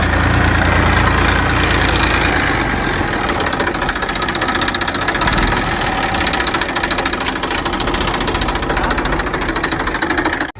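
A tractor engine running steadily during groundnut sowing in North Gujarat, loud and close, with a rapid knocking chatter throughout and no voices.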